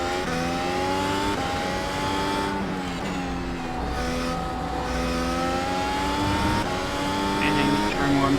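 A Formula 1 race car in the iRacing sim at Circuit Zandvoort howls through a corner and accelerates, its high-pitched engine whine rising and dropping with gear changes, loud and close throughout.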